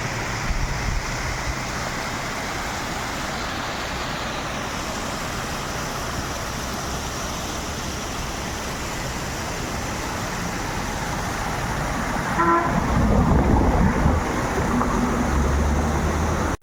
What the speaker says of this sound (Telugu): ఇక్కడ ఇలా దారి వెంట మొత్తం ఇలా వాటర్ ఫాల్స్ ఉన్నాయండి